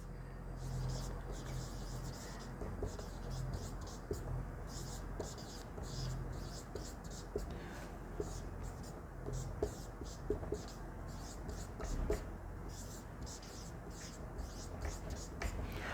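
Pen or chalk writing goes on during a grammar lesson, a steady scratch of strokes at close range under low background hum, with a voice talking faintly at times.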